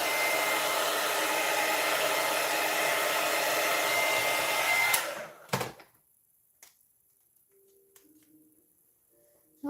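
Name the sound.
hair dryer drying paint on paper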